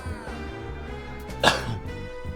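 A single sharp cough bursts out midway over a steady musical background.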